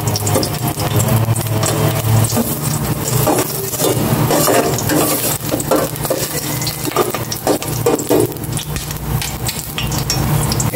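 Garlic fries in cooking oil with a steady, loud sizzle and crackle that runs the whole way through, alongside occasional stirring scrapes in the pan.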